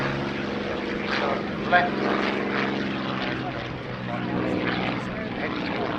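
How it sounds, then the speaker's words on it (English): A Spitfire PR11 Second World War warbird, a propeller fighter, flies past at an airshow. Its engine drones steadily throughout at a moderate distance, with a commentator speaking over it. "It's the Spitfire PR11 in from the right."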